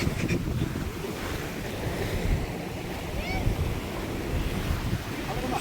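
Sea waves roll onto the shore near Kovalam, close to a church, as a continuous loud wash of surf mixed with heavy wind buffeting on the microphone.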